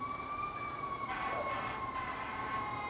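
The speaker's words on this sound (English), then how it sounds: "Sirens on, a fire truck drove by the front porch" A fire truck drives past a house front porch with its siren on, a loud wailing tone sweeping steadily over rumbling traffic noise.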